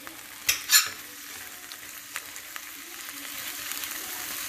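Freshly foraged fiddleheads sizzle in a frying pan. Two quick stirring scrapes come early, then a steady, gentle frying hiss continues alone.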